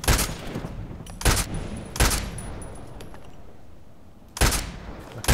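Sharp gunshots from the online shooter Contract Wars, a team deathmatch on the Old Sawmill map: four loud, separate shots spread across the stretch, with a quieter tail and faint game ambience between them and no talking.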